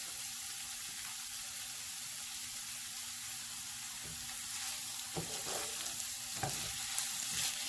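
Stuffed bitter gourd frying in a pan with coriander added, a steady soft sizzle with occasional faint stirring clicks and scrapes, fairly quiet throughout.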